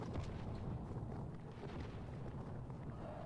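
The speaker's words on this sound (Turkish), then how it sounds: "Nasıl bir patlama öyle ya?" A deep rumbling explosion in the video game Helldivers rolls on as a sustained low boom and roar, fairly faint overall, with no talk over it.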